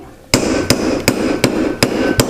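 Hammer striking metal in a jewelry studio while shaping metal beads, six sharp ringing blows at a steady, deliberate pace, close and loud with brief metallic decay between hits.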